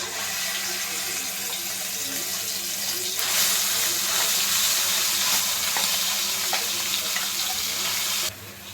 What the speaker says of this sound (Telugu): ఆయిల్ అంతా కూడా బాగా కాగింది ఇప్పుడైతే ఇదిగో మసాలా అంతా కూడా మిక్సీ పెట్టుకున్నాం కదా ఆ మసాలా అంతా కూడా దీంట్లో వేసేసుకున్నాము